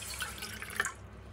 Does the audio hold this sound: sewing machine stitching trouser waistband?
no